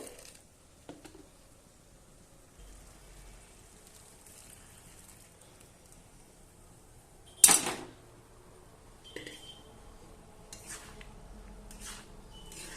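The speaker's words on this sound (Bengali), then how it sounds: "তো আমি প্রেসার কুকারটা ধুয়ে একটু জল দিয়ে দেবো।" Pressure cooker being rinsed and filled in a home kitchen, with quiet sporadic clinks and water splashes and one sharp loud clatter of metal in the middle, amid a faint background hush.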